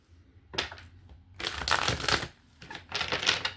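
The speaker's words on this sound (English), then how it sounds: "One more shuffle for my viewer" A deck of cards is shuffled in several quick papery bursts of riffling and rustling, close and fairly soft, separated by brief pauses.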